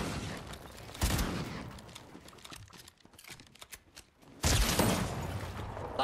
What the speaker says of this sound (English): just look around and shoot wherever I want to shoot